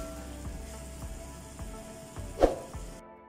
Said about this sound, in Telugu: ఒక 3 నిమిషస్ ఫ్రై చేసుకోవాలి।